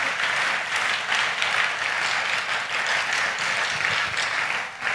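Applause from a church congregation at a Tamil Christian gathering, a dense, sustained wash of many hands clapping, loud and steady for the whole stretch with no voices over it.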